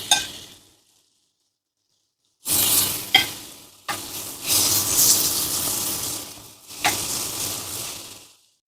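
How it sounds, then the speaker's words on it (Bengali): Marinated chicken breast pieces hit a hot grill pan over medium-high flame, bursting into loud sizzling in several surges separated by brief pauses, with sharp clatters as pieces land and are moved. "ম্যারিনেটেড চিকেন দিয়ে দিচ্ছি।"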